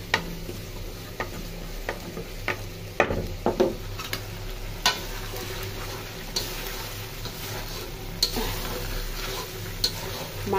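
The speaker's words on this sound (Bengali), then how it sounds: "এই যে মুরগিটা কষানো হচ্ছে" Pieces of chicken are sautéed in a pan with a little water added, a soft steady sizzle broken by repeated sharp scrapes and taps of a spoon stirring against the metal, close by.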